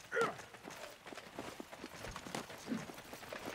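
War horse hooves clip-clop in a medieval video game battle, a short burst of quick footfalls up close amid clattering combat noise, with players talking over it.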